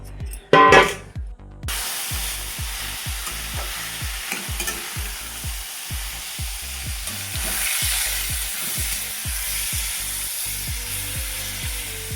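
Potato, pointed gourd and tomato stirred and frying in a pan, with a steady sizzle and repeated scraping stirs throughout after a brief loud clatter at the start.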